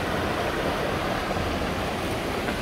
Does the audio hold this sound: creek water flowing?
yes